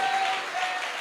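A church congregation at Sunday worship bursts into a short round of hand clapping, many hands at once, brief and fairly loud, with no speech.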